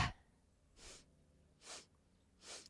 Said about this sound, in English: So the first movement is three sniffs in the inhale